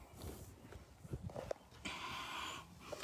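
Horses milling around close by in a barn or paddock, with soft scattered hoof thuds and shuffling steps, a faint snort or breath, and a brief rushing noise near the end, all fairly quiet.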